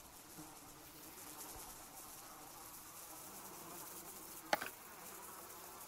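A cloud of flies in the Sons Of The Forest game world keeps up a low, even buzzing drone. A single sharp click cuts through near the end, and nobody speaks.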